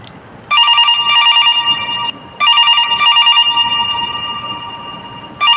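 A telephone rings loudly and close by in repeated trilling bursts separated by short pauses, with no talk over it.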